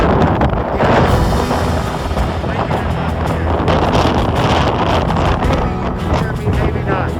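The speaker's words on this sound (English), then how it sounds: "the wind was way too loud to hear what I was saying in these sections" Strong winter wind on the Franconia Ridge, a New Hampshire mountain ridge, roars in continuous loud buffeting gusts and rumbles against the microphone.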